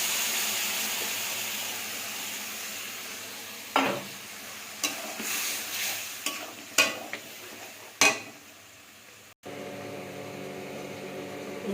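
Spinach paste sizzles steadily in a pan seasoned with dried chili powder, with a continuous hiss broken by several sharp scraping stirs of a spatula, close and fairly loud, with no talking.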